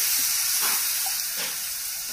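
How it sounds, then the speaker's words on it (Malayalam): Vinegar pours into a hot chicken pickle mixture, giving a steady sizzling hiss with brief louder bursts as it hits the pan, close and alone without talk. "ചിക്കൻ പിക്കിളിലേക്ക് വേണ്ട വിനെഗർ നമ്മൾ ഒഴിച്ചുകൊടുക്കാം."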